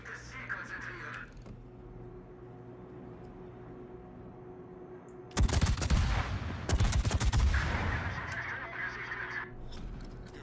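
Gunfire in a naval video game, with sudden loud bursts of rapid shots and explosions following a quieter stretch, and a voice speaking briefly.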